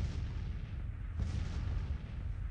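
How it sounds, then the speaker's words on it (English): Artillery fire rumbles in the Civil War strategy game Grand Tactician, with distant cannon booms rolling together into a low, steady, muffled roar that is fairly faint and free of talk. "Too much artillery there."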